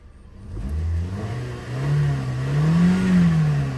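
A car engine idles low and steady, then rises in pitch as it's revved a little, a smooth mechanical hum close by with no voices.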